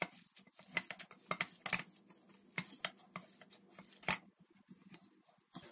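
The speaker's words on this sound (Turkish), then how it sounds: "Kaşıkla bastırmamdaki amaç dutların içindeki suyun tamamını çıkarmaya çalışmak" A metal spoon pressing down on mulberries in a bowl to squeeze out their juice, with quick irregular clinks and scrapes of metal on the dish over soft squishing, close and quiet.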